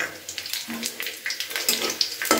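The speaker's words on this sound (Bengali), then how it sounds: "এখানে শুকনো লঙ্কা, তেজপাতা আর গোটা জিরে ফোড়ন দিয়ে দিলাম।" Dried chilli, bay leaf and whole cumin crackle in hot oil, a close and fairly quiet sizzle with quick spits and pops plus a few sharp clicks and scrapes of a utensil, with no one speaking.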